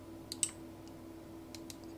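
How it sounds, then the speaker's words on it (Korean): Quiet, sharp clicks of a Ctrl key press and mouse button sound a few times in a near-silent room. "또 컨트롤 키를 누르고 클릭"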